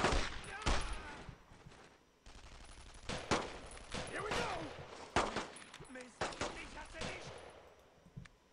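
Rapid bursts of gunfire in the World War II shooter game Brothers in Arms, sharp repeated shots and short volleys at varying distances over a noisy battle background.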